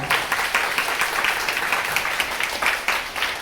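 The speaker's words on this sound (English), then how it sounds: "Everyone give him a round of applause." A Toastmasters club audience gives a member a round of applause, a dense, even, sustained clatter of many hands clapping close by, with no voices.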